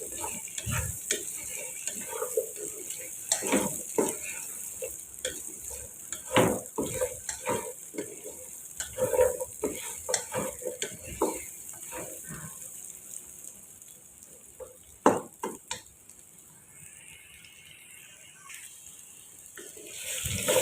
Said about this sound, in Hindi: ये हम इसमें शामिल कर देंगे कढ़ाई में। और इसे अच्छे से हम फ्राई कर लेंगे।